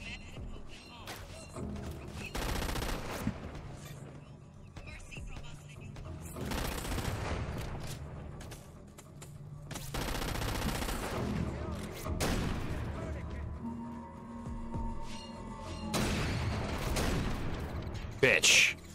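Gunfire in the video game Crackdown 2: repeated bursts of automatic fire and heavy shots break out in clusters with gaps between, some booming, while a player talks over the action.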